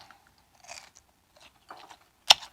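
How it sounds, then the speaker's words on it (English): Crisp crunching bites and chewing of panko-breaded chicken tenders in short bursts, ending with one sharp loud crunch, close to the ear. "I just love the crunchy of panko breadcrumbs."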